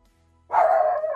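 One sharp, loud dog bark bursts up close after a brief near-silence and rings out for about half a second.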